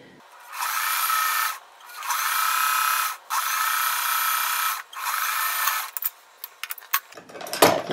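A sewing machine stitching a flying geese quilt block runs in four steady whirring bursts separated by short pauses, then gives way to light clicks and fabric handling near the end.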